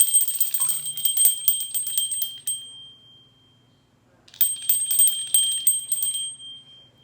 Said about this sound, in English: just sprinkle a little bell to open you up a little bit